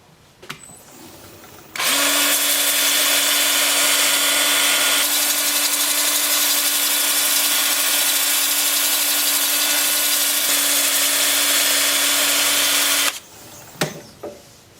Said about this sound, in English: Yep, time for sanding.